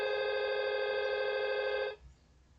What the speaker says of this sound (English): So it's ringing.